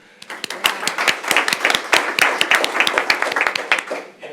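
Clapping at a school board of education meeting, a modest group applauding steadily for a few seconds with distinct individual claps, fairly close.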